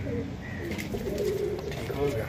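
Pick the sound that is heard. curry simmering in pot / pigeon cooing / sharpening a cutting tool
pigeon cooing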